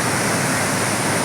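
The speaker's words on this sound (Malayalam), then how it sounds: "തമിഴ്നാടിൻ്റെ തെക്കൻ ജില്ലയിൽ സ്ഥിതി ചെയ്യുന്ന കുറ്റാലം എന്ന വെള്ളച്ചാട്ടം" Kuttalam waterfall in southern Tamil Nadu pours in a steady, dense roar of rushing water that fills the whole clip at close range, with no talk over it.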